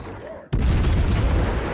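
High-explosive shells fired from the cruiser Des Moines in World of Warships: Legends: after a short hush, a sudden loud, booming salvo blasts in close and rumbles on heavily to the end.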